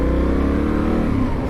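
Benelli Leoncino 800 motorcycle engine revving as the throttle is twisted, a close, loud, steady growl that holds throughout with slight swells in pitch.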